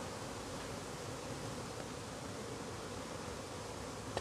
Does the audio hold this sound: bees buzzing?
yes